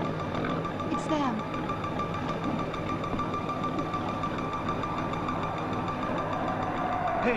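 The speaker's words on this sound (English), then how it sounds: "My goddamn engine's acting up." Boat engine acting up in a horror film scene, a steady low mechanical chugging and knocking that runs throughout, with voices talking over it.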